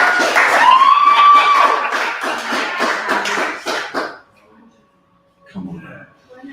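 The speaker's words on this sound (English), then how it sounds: "You can applaud." Audience applause and cheering at a singer-songwriter night in a wine bar, a dense spread of hand claps with whoops over it for about four seconds, then dying away to near silence before a brief murmur of voices.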